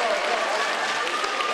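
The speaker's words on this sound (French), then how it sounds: "Et on peut applaudir très très fort les lutins." An audience of families applauds hard for the elves at a clown show during a traditional Saint Nicolas festival in northern France, a dense, steady burst of clapping lasting under two seconds.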